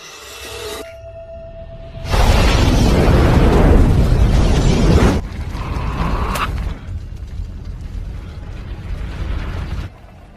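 A large building explosion in a 2007 vampire film, a sudden roaring blast with a long crackling rumble of debris that fades into lingering creaks and mechanical rattling, no talk.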